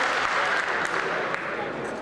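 Sustained applause from lawmakers filling the Ukrainian parliament chamber, a dense, steady wash of clapping running the full length without pause.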